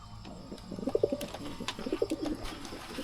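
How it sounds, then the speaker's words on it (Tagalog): Several pigeons coo in soft, throaty bursts close by, overlapping one another, with faint ambient noise behind. "Ayan lahat ng kalapati natin guys."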